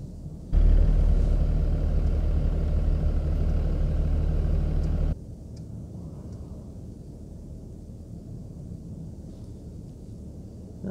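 A 2018 Mercedes S350 d diesel idling as it parks itself between two cars, a low steady hum that suddenly drops to a quieter rumble midway, with no talking.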